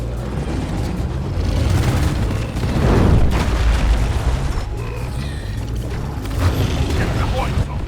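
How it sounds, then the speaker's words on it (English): An explosion in the Deep Rock Galactic video game sounds as a loud, booming rumble inside a dense, continuous din of mechanical game noise lasting several seconds, with no distinct single blast. "Blow it up, Bosco!"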